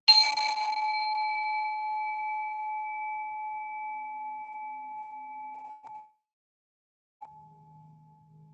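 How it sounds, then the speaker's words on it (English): A little bell is struck once during a yoga session and rings out clearly, its pure tone slowly fading over about six seconds. A faint second tap follows later. "And just let the sound of this little bell drop you into right now."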